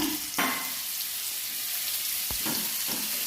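Marinated chicken frying in coconut oil over medium-high heat on a gas stove, a loud continuous close sizzle broken by a couple of sharp utensil knocks, with no talking.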